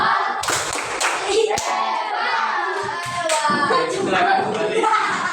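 Children in a classroom perform a rhythmic thumbs-up clapping cheer, patterned bursts of group hand claps interspersed with chanting young voices, close and lively throughout.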